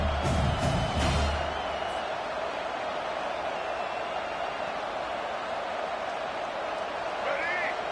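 Football stadium crowd at a college game between MSU and Iowa, roaring steadily behind the defense during a red-zone stand, with a broadcast commentator talking over the start.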